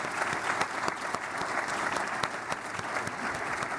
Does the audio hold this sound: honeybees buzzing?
no